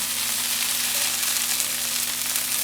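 Yellow curry with coconut milk frying in a pan, giving a steady, close sizzle and bubbling crackle that holds without a break.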